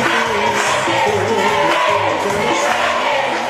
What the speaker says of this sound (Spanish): El aplauso para Sergio.